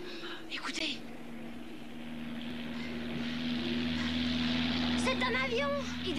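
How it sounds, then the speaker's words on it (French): A low engine drone swells gradually as an aircraft passes, steady and distant at first, with brief voices near the start and end. "C'est un avion."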